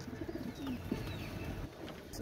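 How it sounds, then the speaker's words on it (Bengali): A pair of Pakistani Saki group pigeons cooing softly, a few short low coos in quick succession against a faint background hum. "এক জোড়া সাকি গ্রুপের কবুতর মাশাআল্লাহ"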